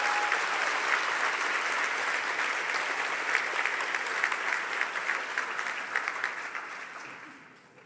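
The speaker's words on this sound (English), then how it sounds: "Please give you all and everybody a big round of applause" Sustained, dense applause from a large audience at a pledge ceremony for final-year physiotherapy graduates, steady and loud for several seconds before tapering off at the end.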